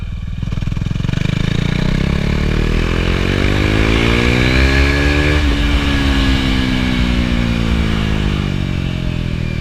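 A motorcycle rides along with a loud, steady engine drone and wind rush close to the rider, its pitch rising and falling as it accelerates and shifts, with no talk over it.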